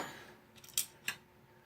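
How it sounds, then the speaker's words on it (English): A paper piercer pulls paper pieces apart, giving two quick, crisp snipping ticks about a third of a second apart. They are faint and close, with no talk. "I'm just using my paper piercer to separate that."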